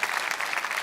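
Applause from a church conference audience in Curitiba, a steady wash of clapping hands that fills the short moment evenly at moderate volume, with no voices over it.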